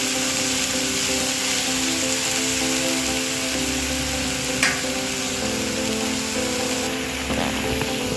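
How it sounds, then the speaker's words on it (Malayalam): Ripe jackfruit sautéed in ghee, giving a continuous gentle sizzle with occasional stirring scrapes and a low steady hum underneath. "ഈ ചക്കപ്പഴം ഒരു 5 മിനിറ്റ് ഈ നെയ്യിലൊന്ന് നന്നായിട്ട് വരട്ടിയെടുക്കണം."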